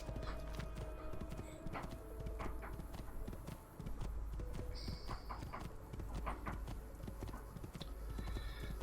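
Horse hooves gallop in the video game Assassin's Creed 2, a steady, rapid clip-clop running throughout, with a brief whinny and other game ambience mixed in.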